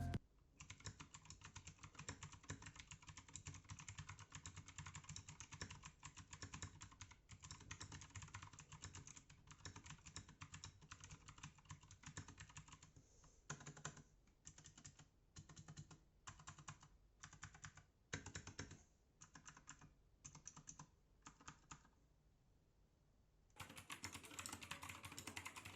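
Someone types steadily and rapidly on an Anne Pro 2 60% mechanical keyboard with blue switches, giving loud, close, clicky keystrokes. The typing thins into separated bursts, pauses briefly, then resumes at full pace.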